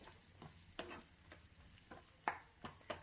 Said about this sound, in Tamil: சின்ன வெங்காயத்தை போட்டுட்டு நல்லா வதக்கி விடுங்க